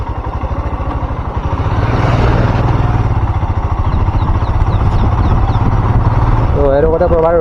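A motorcycle rides along tracks through a tea garden, its engine putting out a steady close throb that swells slightly partway through, with a voice speaking over the ride.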